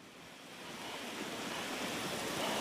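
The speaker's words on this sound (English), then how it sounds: "sending water gushing into a subway train platform" Floodwater from intense rainfall gushes onto a New York subway platform, a continuous broadband rushing roar that swells slightly louder over a few seconds, with no voices.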